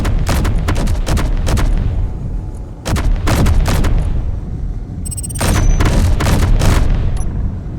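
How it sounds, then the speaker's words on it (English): Incoming weapon fire in Space Engineers lands as loud, booming bursts of heavy shots in several clusters, each with a rumbling tail. A short lull falls near the middle before the barrage resumes, and no one speaks. "We're being fired at. Please return fire."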